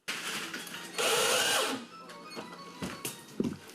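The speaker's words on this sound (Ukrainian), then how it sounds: "ремонтники прикручують розетки на черзі плінтус" A power tool driving screws as renovation workers fasten electrical sockets in an apartment, with a loud sustained whir and shorter bursts and knocks around it.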